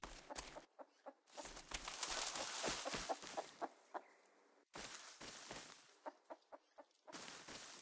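Repeated short chicken clucks from the video game Rust, in irregular bursts over a steady background hum, fairly close and moderately loud, with a brief break midway.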